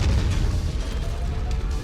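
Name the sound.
AC-20 autocannon barrage firing in MechWarrior 5 video game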